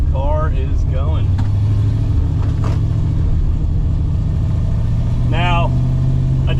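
The engine of a 1991 Ford Mustang Fox body rumbles steadily from inside the car, loud and continuous, while someone talks over it intermittently.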